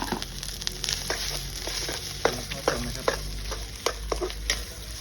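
Rice stir-fries with egg in a hot pan, giving a steady sizzle over which a spatula scrapes and taps in irregular close strokes.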